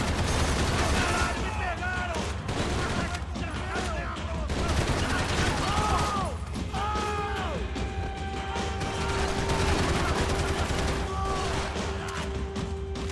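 Rapid gunfire and crashing impacts from the video game Max Payne 3, bursts of shots mixed with game music and effects, while a player talks over the action.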